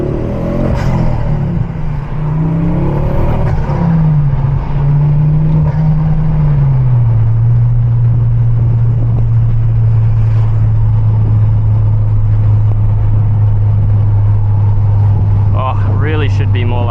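A Ford Focus ST MK2 turbo hatchback accelerates away on a forest road, a loud steady engine drone rising then holding, heard from inside with someone talking over it.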